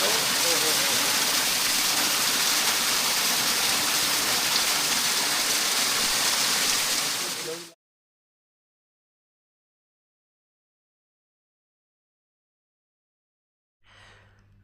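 A waterfall in Uttarakhand, India, roars as a dense, steady rush of falling water for about seven seconds, then cuts off to silence before a faint sound returns at the end.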